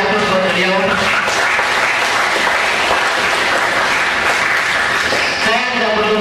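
An audience applauds a speaker, a former Student President of IAIN Alauddin Makassar, at a seminar on advocacy and action management. Steady clapping fills the room, with voices mixed in throughout.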